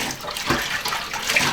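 Tap water gushes steadily into a sink while pork belly is washed under it, close and continuous with slight splashing.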